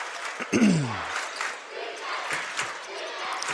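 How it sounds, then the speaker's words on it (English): Mustangs fans at a high school basketball game chant and shout for defense, a crowd roar in a gym with a sharp squeak or bounce near the start. "Mustangs fans calling for defense here"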